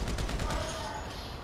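Rapid gunfire from the video game GTA 5, a dense burst of shots at steady loudness through a short stretch, with faint background game noise.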